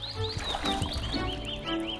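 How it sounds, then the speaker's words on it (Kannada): A wild boar in a forest tale gives a quick run of grunting, snorting calls over about two seconds, close and moderately loud, with no talk. "ಒಂದು ದಿನ ಒಂದು ಕಾಡು ಹಂದಿ ಕೊಳದಲ್ಲಿ ನೀರು ಕುಡಿಯಲು ಬಂದಿತು"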